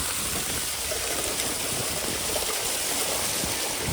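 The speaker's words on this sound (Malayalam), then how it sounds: "ഇവിടെ ഒരു ചെറിയ ഒരു വാട്ടർഫാൾ പോലെ മുകളിൽ നിന്ന് വെള്ളം ഇങ്ങനെ വന്ന് വീഴുന്നുണ്ട്." Rainwater pouring from above onto a road in Nainital like a small waterfall during a rainy walk, heard as a steady, dense splashing rush that stays even and close throughout.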